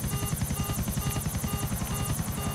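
A helicopter in Grand Theft Auto 4 thumps steadily with rapid, evenly spaced rotor beats over a constant engine whine, loud and close throughout.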